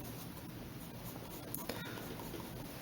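A pencil sketches an anime character on paper, giving a soft continuous scratchy hiss with faint stroke pulses, close and quiet, with no talking.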